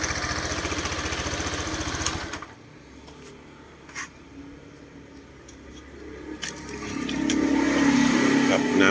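A warmed-up car engine, being run after a coolant top-up and radiator air bleed, runs loudly with a rough, steady chug for a couple of seconds, then drops away to a quieter background hum before swelling again.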